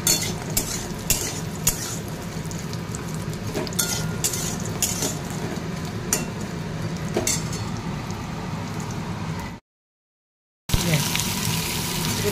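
Potatoes and vadi frying in a pan with panch phoron in a home kitchen, a steady sizzle broken by sharp clicks and scrapes of a utensil stirring, with a brief dropout near the end.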